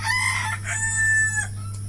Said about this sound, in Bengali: এই যে দেখেন মুরগিটা এটা মেবি ডিম পারছে